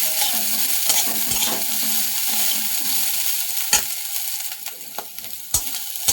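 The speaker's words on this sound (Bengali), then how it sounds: "ভালোভাবে নেড়ে নেব।" Sliced bitter gourd fries in mustard oil in a pan while a spatula stirs it, giving a steady soft sizzle with a few sharp scrapes and clinks. Moderately quiet, with no one speaking.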